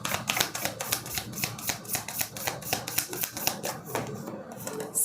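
Tarot cards are shuffled and drawn in quick, dry flicks and snaps, a steady patter of close card handling, while someone speaks quietly underneath.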